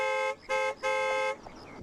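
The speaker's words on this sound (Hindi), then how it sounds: "अरे हॉर्न मारो ना भाई" A car horn honks three times on a road, two short blasts followed by a longer one, loud and close with no talking over it.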